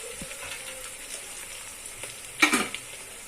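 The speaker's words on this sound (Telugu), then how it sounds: "కొంచెం రెడ్డిష్ అలా ఆనియన్స్ ఫ్రై అయినాక టమాటా వేద్దాం." Onions sizzle steadily in a pan for chicken biryani, with a soft, even hiss throughout and one louder crackling burst partway through, as if the onions were stirred.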